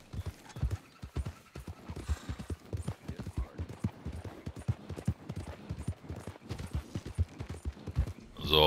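Rapid, rhythmic hoofbeats of a galloping horse in Red Dead Redemption 2 Online clip-clop steadily at moderate volume, with a brief louder burst at the very end.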